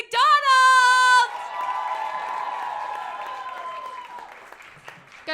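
A comedy-show crowd at a roast cheers a performer, opening with a loud, high, sustained whoop for about a second, followed by quieter ringing vocal cheering that tapers off over several seconds.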